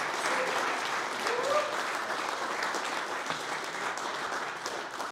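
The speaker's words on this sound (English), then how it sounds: "Sarah Bennett, Roland Crowell, a huge round of applause." Applause from the audience at a security industry awards gala, a steady, moderately distant roll of many hands clapping that sustains evenly, with faint voices beneath.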